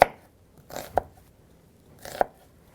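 A knife cuts through an onion on a cutting board, giving three sharp crisp crunches spaced about a second apart, close and fairly quiet, with near silence between strokes.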